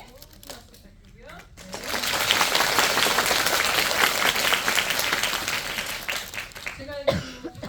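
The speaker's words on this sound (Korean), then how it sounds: "박수 부탁드리고요" Audience at a Korean film screening Q&A bursts into sustained applause that swells after a quiet start, then fades as a voice returns near the end.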